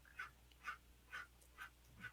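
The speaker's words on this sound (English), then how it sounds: "That's really not me breathing, and you know, It's the doggy." Dog panting close by in short, regular breaths, about two per second, soft and quiet against a low background hum.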